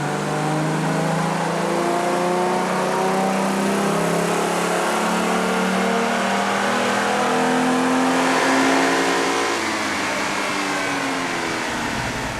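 A six-cylinder Ford Mustang GT engine revs steadily upward on a dyno pull from about 2,000 to 7,000 RPM, a loud continuous rising drone with no talk.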